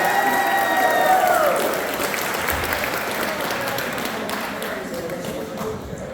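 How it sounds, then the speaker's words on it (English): Wedding guests at a McNay Museum reception give a round of applause for a singer, steady crowd clapping that starts loud with a voice speaking over it early on, then gradually fades. "big round of applause for Matthew."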